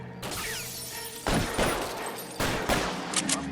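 Gunfire cracks in the LA Noire video game, sharp close shots and short volleys in several bursts with glassy impacts and crashes, over a steady background of game ambience.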